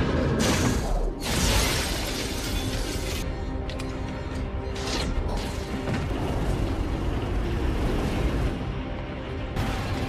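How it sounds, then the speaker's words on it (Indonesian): A windshield shattering as an object smashes into it during a spacecraft's hard crash landing in a film scene, bursts of crashing glass and debris over a heavy, continuous rumbling roar. "sebuah benda menghancurkan kaca depan"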